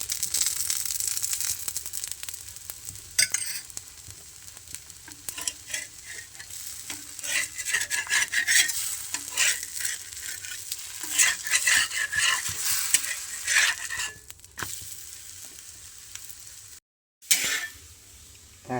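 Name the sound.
jowar and wheat flour balchi frying with oil in pan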